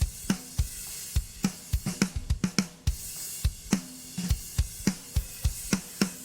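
Drum kit run through AudioScape D-COMP parallel compression at its fastest release, with sharp, punchy hits in a steady groove, prominent snare and kick, clear stick drags and a short fill midway, played alone without talk.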